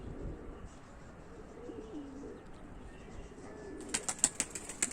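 Pigeons coo softly on a rooftop over quiet background noise, and a burst of sharp chirps and wing flutters comes near the end.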